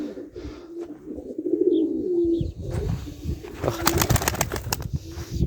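Young Sivas gök pigeons in a nest give soft, repeated cooing calls, close by, with brief rustling and a burst of wing flaps near the end.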